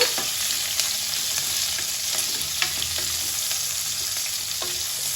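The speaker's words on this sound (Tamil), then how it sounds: "லைட்டாக வெங்காயம் வதங்கட்டும் பாருங்கள் வெங்காயம் நல்லா பொறிஞ்சிச்சு" Onion and green chillies fry in a pan, giving a steady close sizzle with light scraping stirs of a spatula throughout, no voices.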